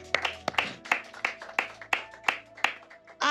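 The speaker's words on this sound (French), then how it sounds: "Acclamons." Church congregation clapping in a steady rhythm, about ten sharp claps spaced roughly a third of a second apart, moderately close, with no talk over them.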